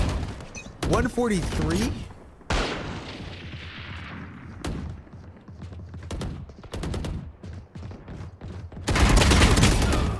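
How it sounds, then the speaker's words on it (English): Rapid gunfire bursts from Palworld gameplay, loud, dense volleys and sharp shots in several clusters, with someone talking over and between them. "Bro, I feel like these guns shoot way faster"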